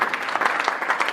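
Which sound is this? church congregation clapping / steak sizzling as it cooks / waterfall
church congregation clapping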